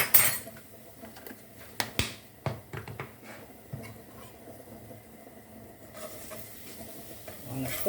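Curry chicken being stirred in a pot, made with curry powder, with scattered spoon scrapes and clinks against the pot over a quiet simmering background, louder taps near the start.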